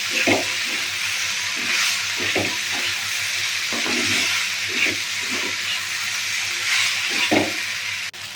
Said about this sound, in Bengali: পাস্তাগুলো এখন ঢেলে নিলাম